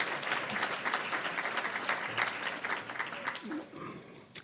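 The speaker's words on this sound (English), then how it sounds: "yeah, let's keep clapping," Sustained audience clapping at a PharmD class of 2023 awards celebration, a dense, moderately distant patter of many hands that thins slightly near the end.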